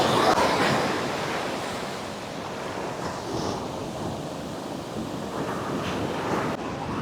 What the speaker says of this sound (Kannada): ಈ ವೇವ್ಸ್ ಈ ಥರ ಬರ್ತಾ ಇದೆಯಲ್ಲ, ಏನಕ್ಕೆ ಈ ನೀರು ಈ ಥರ ವೇವ್ಸ್ನ ಕ್ರಿಯೇಟ್ ಮಾಡ್ಕೊಂಡು ಈ ಥರ ಬರುತ್ತೆ?